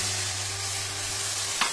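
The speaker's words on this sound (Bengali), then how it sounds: "এবার সর্ষে পোস্তর পেস্টটা দিয়ে দিলাম" Mustard and poppy seed paste hits a hot pan already tempered with nigella seeds and green chilli, giving a steady, low sizzle with a faint hum and no voices.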